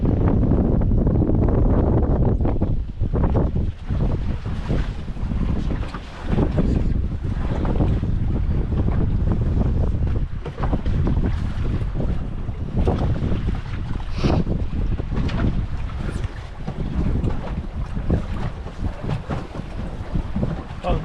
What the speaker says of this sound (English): They say the wind gonna calm down.